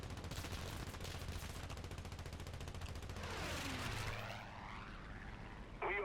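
Rapid aircraft cannon fire in the combat flight game War Thunder: a dense, continuous stream of shots over steady engine drone that fades out near the end.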